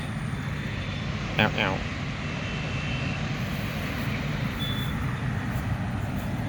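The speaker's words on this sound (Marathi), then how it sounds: "किती छान प्लेन आहे बघा" A steady airplane engine drone fills the background, continuous and moderately distant, with a brief sharper noise early on.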